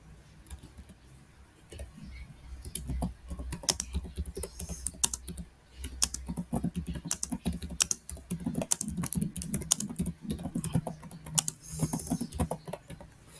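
Rapid keystrokes on a computer keyboard make a close, continuous, irregular clatter of light clicks and taps, with no voices.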